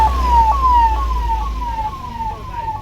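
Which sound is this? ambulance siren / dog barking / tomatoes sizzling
ambulance siren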